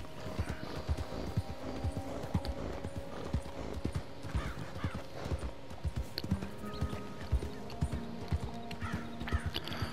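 Horse hooves clip-clop in a steady trotting rhythm in Red Dead Redemption 2, with occasional whinnies and faint game ambience behind them, no talking.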